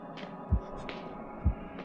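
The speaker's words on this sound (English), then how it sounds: "Wait, why am I hearing heartbeats?" Heartbeat sound effect in the horror game Medusa's Labyrinth: two deep, muffled thumps about a second apart over a low ambient hum, close and distinct, with no talk.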